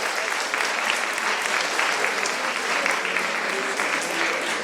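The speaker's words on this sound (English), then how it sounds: "Let's give Andrea a big round of applause." Audience applause, a dense, even wash of many hands clapping that holds steady and fairly loud throughout.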